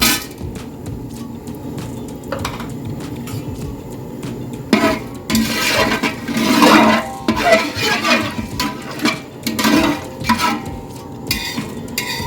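Whole cloves, cardamom, cinnamon, star anise and bay leaf crackling in hot oil for a pulao, heard as loud, close sizzling bursts mixed with pan clatter and stirring, swelling and fading irregularly.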